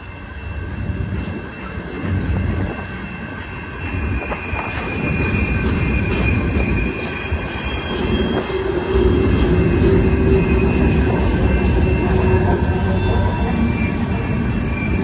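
A Union Pacific freight train passes on the Palmdale Cutoff, its wheels squealing high and sustained over a loud, steady rolling rumble that builds as the cars go by close to the microphone.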